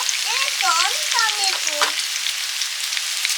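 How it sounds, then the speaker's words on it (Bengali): Dried red chillies fry in hot oil in a pan for a bathua greens dish, a steady sizzle running through with a few brief high chirping tones early on, and no talking. "আলু বেগুনগুলো ভাজা হয়ে গেছে একটু সাইড করে দিয়ে শুকনো লঙ্কা বেতো শাকের রান্নাটা করব"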